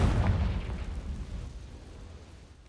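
A Confringo spell explodes in the Hogwarts Legacy video game: a single loud blast at the start, with a deep rumbling tail that slowly fades away over a few seconds.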